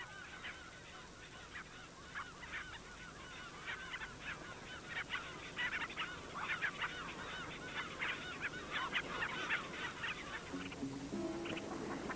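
Magellan and Antarctic geese in the Falkland Islands give a steady run of overlapping honks, moderately near, with a small flock calling continuously over light background noise.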